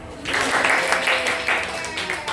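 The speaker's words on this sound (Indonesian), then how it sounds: "Tepuk tangan yang meriah untuk para penampil." Steady applause from an audience at a Youth Pledge Day commemoration event in Indonesia, a dense wash of clapping that fills the whole moment.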